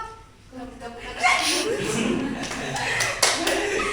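Students in a classroom clap their hands in a burst of applause that starts about a second in and carries on, with a teacher's voice and some light laughter mixed over it.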